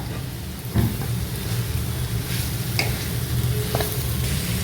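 Vegetables and capsicum sautéing in a pan for chilli garlic chicken noodles, giving a steady close sizzle with a few scraping stirs and no talk.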